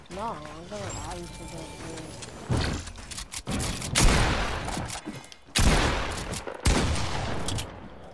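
Bursts of rapid gunfire in the battle royale game Fortnite, several loud volleys separated by brief gaps, with a voice speaking over the opening moments.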